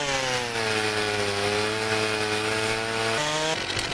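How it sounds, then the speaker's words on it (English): A chainsaw in the woodcutting game Forestry 2017 runs loud and steady through wood, its harmonic engine drone holding pitch for several seconds before shifting as the cut ends. "it seems that the chainsaw doesn't even have to be that close."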